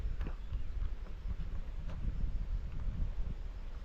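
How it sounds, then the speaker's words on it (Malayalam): Wind buffets the microphone in gusty low rumbles on a hilltop at Nadukani, Kothamangalam, with a few faint knocks and rustles mixed in. "ഇതും വേറെ വൈബ് തന്നെ നല്ല കാറ്റുണ്ട്"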